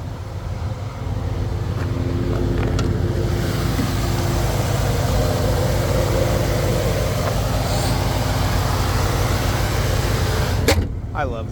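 A 2001 Pontiac Trans Am WS6, a 1998–2002 F-body with a ram air hood and full exhaust, idles with a steady, loud, low rumble. The engine holds an even drone throughout, with a brief rattle near the end.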